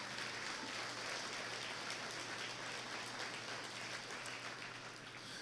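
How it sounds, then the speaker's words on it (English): A luncheon audience claps for the meal's sponsor, a restaurant: dense, steady applause from a room full of people that holds at an even level through the whole span, with no pauses or voices breaking through. "Please give Puckett's a round of applause."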